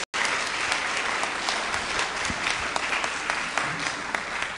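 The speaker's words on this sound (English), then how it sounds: "if you want to give them an applause" An audience applauds a student panel at the close of an online course showcase discussion, steady sustained clapping from many hands filling the room, fairly loud and unbroken with no talk over it.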